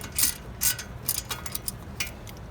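Ratchet wrench clicking in several short bursts while loosening a bolt on a Chevy Volt wheel hub during a hub bearing replacement, close and fairly quiet.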